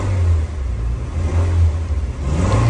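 A Nissan Sunny, a Japanese car, runs after a relay repair, its engine holding a loud, steady near hum that swells with brief revs over nearly three seconds.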